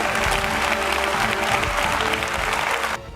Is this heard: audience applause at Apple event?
yes